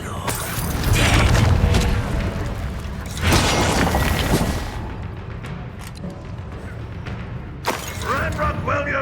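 Fiery Confringo spell blasts in Hogwarts Legacy, a dense roar of explosive bursts and crackling impacts in the middle of battle, with voices shouting over the din.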